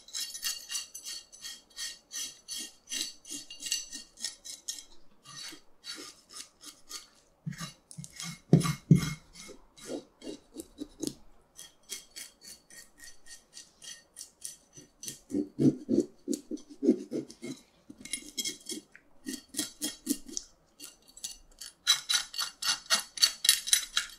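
Intermittent scraping and clicking of a kitchen knife across the skin of a red grunt fish, removing scales and slime in short rhythmic bursts with brief pauses, close and fairly quiet.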